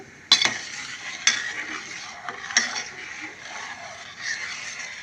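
Semiya payasam with milk being stirred in a pot: a few sharp spoon scrapes against the metal stand out over a soft, steady simmering hiss, close up with no voices.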